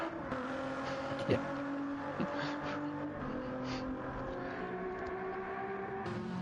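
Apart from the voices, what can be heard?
race car engine from a video game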